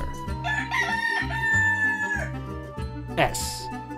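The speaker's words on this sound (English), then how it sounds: "Rooster." A rooster crows one long cock-a-doodle-doo over soft background music, followed by a brief squawk.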